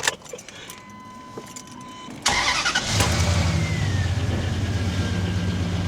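A 23-year-old Dodge Dakota 4.7 pickup sits quiet with faint jangling, then its starter kicks in and the gasoline engine fires up loudly, settling into a steady close rumbling idle with a slight rev.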